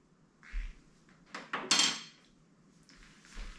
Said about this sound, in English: I'm gonna stir it a little bit and then we're gonna try it.